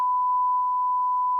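A camera self-timer gives a single steady electronic tone, clear and unbroken, lasting just over a second with no voices around it.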